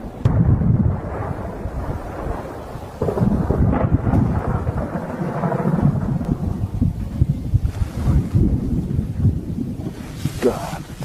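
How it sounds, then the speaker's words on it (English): A thunderstorm rolls on with long, heavy rumbles of thunder and buffeting wind noise on the microphone, loud and continuous across the stretch with rough surges and no clear speech. "This man was filming the thunderstorm"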